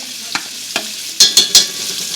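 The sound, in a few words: homemade Mexican chorizo frying in bacon fat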